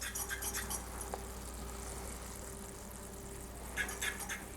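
A pot of rum cake syrup bubbling as it is stirred, faint scraping and clinks of the spoon against the pot over a steady low simmer, with brief louder clatters near the start and end.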